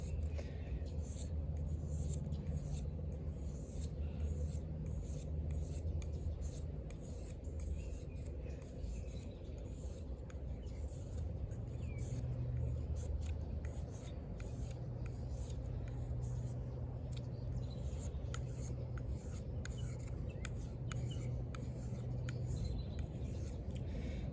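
Steady dry scraping of a 440C steel drop-point knife shaving fine curls from a wooden stick, a close continuous rasp with no voices.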